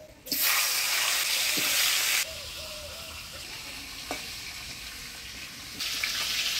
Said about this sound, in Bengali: এবার মাছের মুড়োটাও ভাজিয়ে নেব